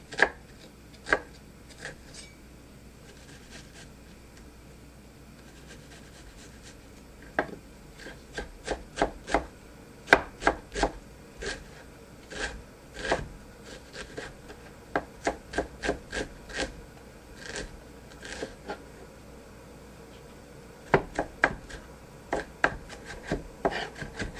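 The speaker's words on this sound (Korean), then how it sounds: "양파는 사이즈가 딱히 없지만 저는 다져서 사용하도록 하겠습니다." Onion being finely chopped with a knife on a board: sharp, quiet taps in irregular bursts, sometimes rapid runs and sometimes isolated strokes, close with no voices.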